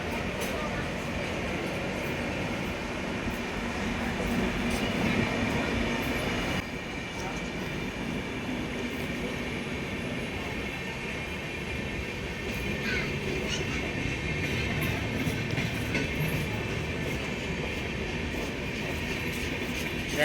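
Up Kulik Express, the 13054 Radhikapur–Bandel train, passing through a station, a sustained rumble of rolling coaches and wheels on track that goes on throughout, with voices faintly in the background.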